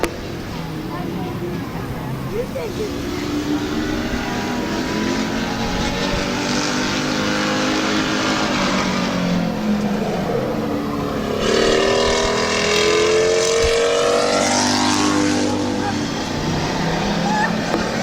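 Pure stock race car running a qualifying lap at Midvale Speedway, its engine note droning and then swelling as it passes nearer, heard under a public-address announcer talking throughout.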